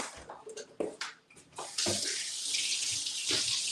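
Tap water gushes into a sink to rinse something off, starting after a few brief clattering knocks and then flowing in a steady, close, loud rush.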